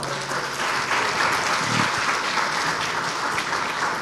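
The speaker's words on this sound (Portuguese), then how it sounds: "Aplauda o Senhor." Church congregation applauding during a Portuguese-language sermon, a dense steady wash of many hands clapping that holds evenly throughout, loud and close with no talk over it.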